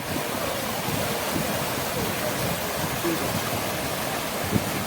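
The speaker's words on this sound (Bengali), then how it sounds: "জলে গতি দেখে মনে হচ্ছে যেন আওয়াজ শুনে অনেকটাই ভালোই গতি আছে" Fast river water rushing over stones, a steady broadband roar that stays close and constant throughout with no pauses, like a stream or small waterfall.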